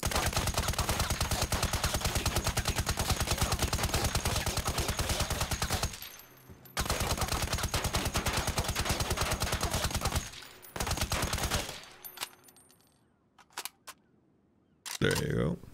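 Ultimax 100 light machine gun firing full-auto in the video game Ironsight, long rapid bursts of evenly spaced shots separated by brief pauses, then a few scattered single shots, loud and close.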